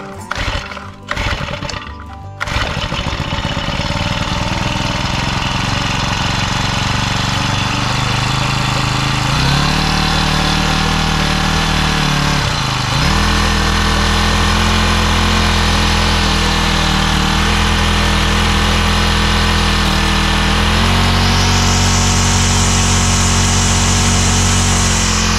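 A brush cutter's small two-stroke engine is started at home after an engine oil change: a few sharp pull-start bursts, then a loud, steady close-range run that shifts pitch a couple of times as the throttle changes.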